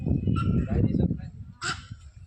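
Ducks and other waterbirds at Bannerghatta Biological Park in Bangalore give a short honking call partway through, over a dense, steady low murmur of background noise.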